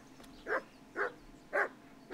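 A dog in the medieval video game Kingdom Come: Deliverance barks four times at a steady rhythm, each a short, fairly close bark standing out from a quiet background.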